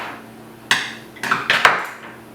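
Metal wrenches laid out as household tools for assembling a MendelMax-type 3D printer clatter and clink together, a few sharp close metallic knocks in quick succession that ring briefly and fade.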